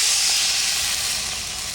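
Water poured into a hot pan of fried vegetables and tender ash gourd vine cooked with mustard paste, bursting into a loud, close steam hiss that slowly eases over under two seconds, no talking.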